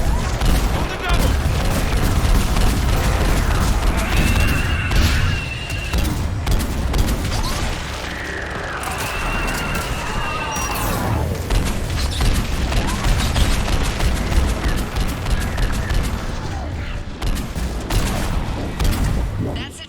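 Mass Effect video game battle with rapid bursts of gunfire and booming missile impacts, dense and loud throughout, with mechanical clanks and whines mixed in and voices talking over the combat.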